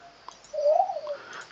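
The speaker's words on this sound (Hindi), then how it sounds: "जैसे उल्लू की आवाज़ आ रही है" A single soft hooting owl call, one brief low rounded note rising and falling against a quiet background.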